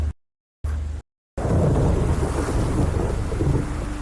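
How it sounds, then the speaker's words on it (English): A dangerous thunderstorm over New York roars with heavy rain and rumbling thunder, loud and continuous after a few brief broken bursts at the start; no one speaks. "Get ready, New York, for a dangerous storm."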